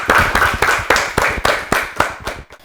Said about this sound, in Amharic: ለምዕራፍ አጨብጭቡላት እስቲ በደንብ አድርጋችሁ